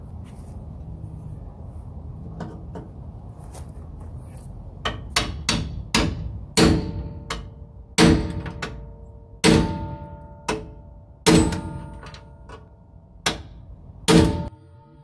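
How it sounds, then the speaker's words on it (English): A hammer drives a cold chisel against a bolt, a series of sharp metallic strikes, at first sparse then roughly a dozen ringing blows in an uneven rhythm, close and loud over a low background rumble. "I'm going to try a new approach with something called a hammer and a cold chisel"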